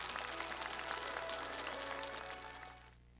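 An audience claps steadily for performers at an arts show, dense applause that holds for a few seconds and then fades out.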